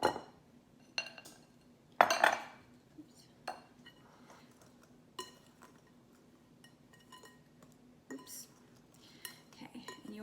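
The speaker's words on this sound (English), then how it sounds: "use the rubber spatula to scrape all the excess stuff into the larger bowl" A rubber spatula scrapes brownie batter against a mixing bowl, giving soft quiet scrapes with scattered sharp clinks and knocks of the bowl and utensils, close by.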